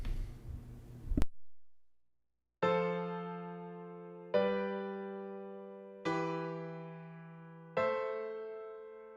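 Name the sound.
chord progression played in a DAW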